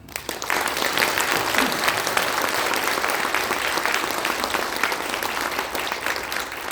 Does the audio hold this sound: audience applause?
yes